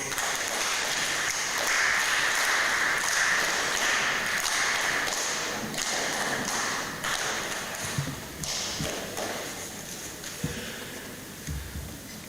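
A council meeting audience applauding a councillor's budget presentation, a long spread of clapping from many hands in a room, steady at first, then thinning toward scattered claps with a few knocks and thuds.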